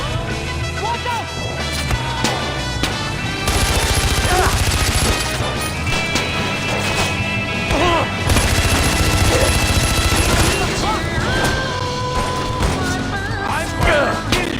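Rapid gunfire bursts and impacts from the video game Far Cry 4, loud and dense over in-game music and effects, with shouting voices mixed in.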